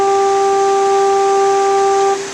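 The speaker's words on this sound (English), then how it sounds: "Of course, the foghorn is blaring again." A coastal foghorn blares as one loud, steady, sustained tone, close and alone, then cuts off near the end.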